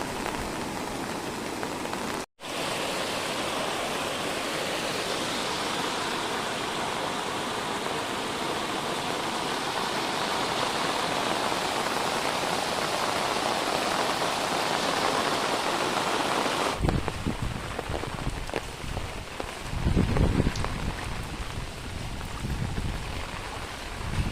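Floodwater rushes after torrential rain at Khandas, a steady broad roar of flowing water, loud and continuous, with rougher splashing bursts near the end.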